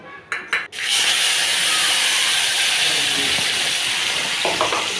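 Spices crackle and sizzle in hot oil for an Indian tempering (chhonk), a steady loud frying hiss after a few sharp clatters at the start, close and without talk.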